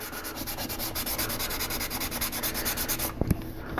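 Dry sanding of fresh primer with a fine sanding sponge makes a steady rhythmic scratching at close range, ending with a couple of sharp knocks, and no one speaks.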